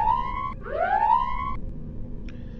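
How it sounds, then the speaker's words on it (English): A fixed klaxon switch in The Pandora Directive adventure game sets off a siren that wails in two rising, held tones, then a short faint third blip, loud and alone. "And we get a nice little siren noise"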